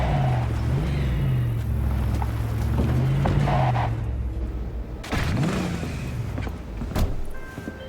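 A car in Cyberpunk 2077 drives along with a continuous engine drone that rises and falls in pitch, broken by a couple of brief mechanical thumps and whooshes toward the end.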